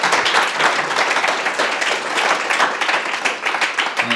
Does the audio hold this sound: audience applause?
yes